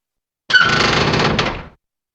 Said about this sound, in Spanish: La puerta se abrió de repente